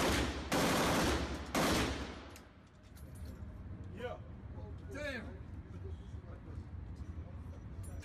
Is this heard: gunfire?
yes